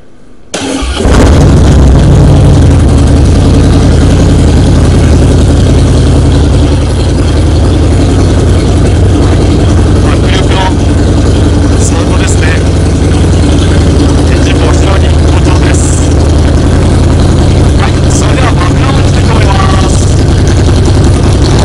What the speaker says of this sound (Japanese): ではエンジン始動といきたいと思います